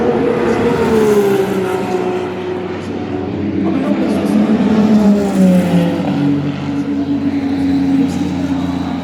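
Race cars lapping during Le Mans 24 Hours qualifying, engines droning and rising in pitch as cars pass, continuous and fairly loud under an announcer's talk.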